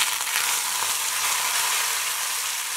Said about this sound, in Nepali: अब यो तातेको तेलमा मैले दुईवटा तेजपत्ता राख्ने छु त्यसपछि मसिनो गरेर काटेको प्याज